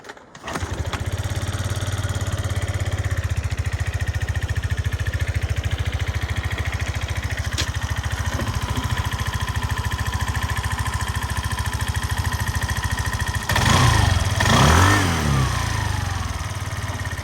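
Suzuki Address V125 S scooter engine starts with a brief crank and settles into a steady, close, loud idle with a low rhythmic putter, a short blip of revving near the end.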